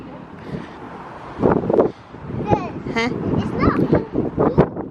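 Gusty wind buffets the microphone in rough bursts while an adult and someone talk over it.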